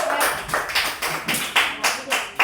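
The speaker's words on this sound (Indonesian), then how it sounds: "beri tepuk tangan buat kelompok" Students in a classroom clap for a group in a quick, uneven burst of about a dozen sharp claps over a couple of seconds.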